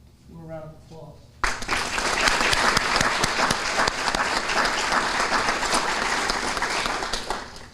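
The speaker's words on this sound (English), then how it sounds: "A round of applause." Audience applause at a military recognition ceremony bursts in loud and dense after a brief spoken introduction and holds steady for several seconds.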